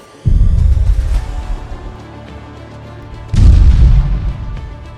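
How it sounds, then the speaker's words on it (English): An ammunition depot hit by drone strikes erupts in two massive detonations a few seconds apart, each a sudden deep boom followed by a long rumbling roar, loud and heavy in the low end. "delivering pinpoint strikes that triggered a massive detonation and obliterated the entire depot"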